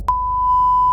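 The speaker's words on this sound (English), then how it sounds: "I'm gonna beep this out" A single pure censor bleep masking speech, a steady high electronic tone that starts abruptly and holds loud and unbroken for about a second.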